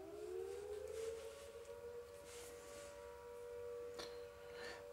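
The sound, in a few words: volunteer fire brigade siren in the distance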